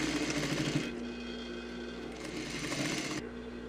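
Sewing machine sewing a straight stitch along a curved seam of fabric for a diagonal bag, a continuous close mechanical whir with rapid needle rhythm, briefly pausing and resuming, no talk.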